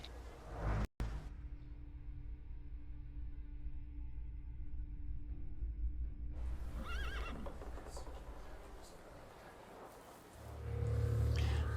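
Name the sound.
horse neighing and hooves in The Thaumaturge video game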